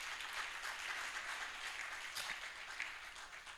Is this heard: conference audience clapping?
yes